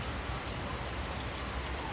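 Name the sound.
rain falling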